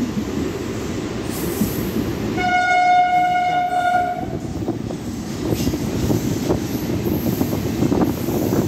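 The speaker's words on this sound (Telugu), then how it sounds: "Train has started." MMTS local train near Charlapalli in Hyderabad pulling away, with a loud sustained horn blast over the rumble and clatter of wheels on rails, building into steady rolling noise, with no talking heard.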